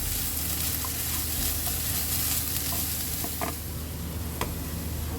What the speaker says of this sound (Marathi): एक ते दोन मिनटं व्यवस्थित असंच परतवून घेत राहावं लागणार